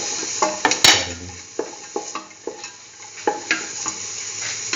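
Onion pieces fry in a pan for a chayote and bell pepper stew, with a steady sizzle and a string of sharp utensil scrapes and clicks from stirring. The sounds are close and there is no talking.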